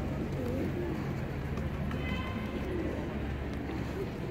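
Pigeons coo softly while being fed outdoors among families and children on a pleasant day, their low calls sitting in a busy ambient wash with faint background chatter.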